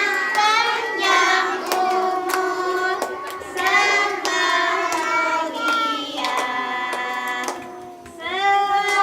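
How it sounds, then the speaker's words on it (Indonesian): A group claps hands at a child's third birthday party in Aceh, with scattered irregular claps mixed under children and adults singing and talking. "Tepuk tangannya semua."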